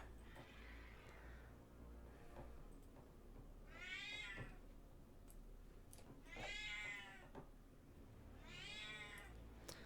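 Cat meowing several times, each a drawn-out, wavering call with pauses between, the later three clearest and fairly close, set against low background noise.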